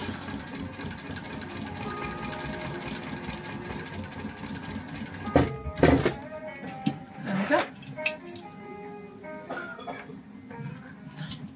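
A sewing machine runs steadily as it stitches across a note pad cover, a low mechanical whir with a few louder clunks midway and a voice speaking over it.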